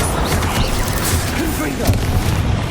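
A Bombarda explosion spell going off in Hogwarts Legacy, a dense rumbling blast with crackling debris, mixed with busy game effects and a shouted incantation over a continuous loud bed.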